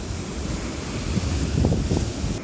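Ocean waves rolling in on a beach: a broad, steady wash of surf with a swelling rush near the end, mixed with wind buffeting the microphone, close and fairly loud, no talking.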